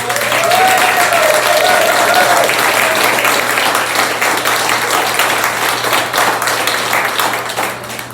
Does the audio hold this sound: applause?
yes